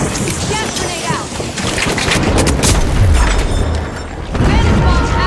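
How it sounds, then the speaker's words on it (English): A gas grenade bursts in a video game, a loud booming blast with a hissing rush of gas under game sounds and voices. "Gas grenade out."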